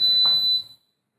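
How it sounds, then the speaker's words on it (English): A Tefal Express portable induction cooktop (IH720860) gives a single steady high electronic beep on being plugged in, lasting about half a second and then cutting off into silence. "beeps at you. That's the first thing it does."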